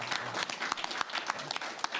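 Applause for a panel at a progressive groups' debate forum in Los Angeles, sustained crowd clapping with scattered sharper claps throughout.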